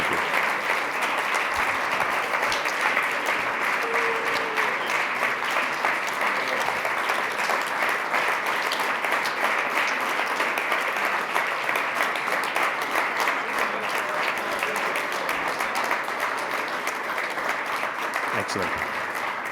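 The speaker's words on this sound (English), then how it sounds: "As we clap," Sustained applause from a conference audience after a supply chain security panel, a steady dense clapping that carries on for the whole stretch at moderate distance, with a voice briefly heard.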